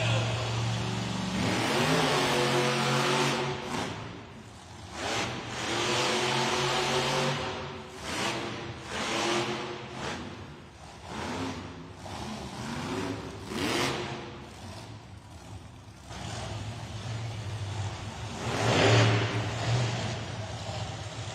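Monster truck named Jester at a Monster Jam arena event fires up with a loud pop, then its engine roars and revs in repeated surges for the full stretch, close and loud, with an announcer talking over it.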